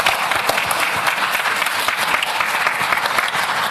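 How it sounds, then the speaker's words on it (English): An audience at an athletics press conference for a Diamond League meet in Oslo applauds, a loud, continuous, dense burst of clapping heard alone throughout. "Applause for that one."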